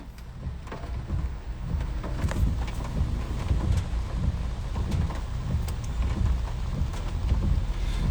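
Heavy rain pours down steadily and keeps building, a dense, continuous hiss with low rumbling underneath, and no voices over it.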